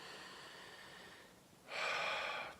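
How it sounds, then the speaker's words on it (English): Gentle breathing with eyes closed during a guided exercise, a soft, airy exhale followed by a louder, breathy intake near the end, close and quiet with no talking. "just gentle breathing"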